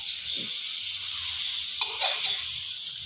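Pork belly stir-frying in a pan with five-spice powder gives a steady, close sizzling hiss, broken by a couple of brief scraping stirs.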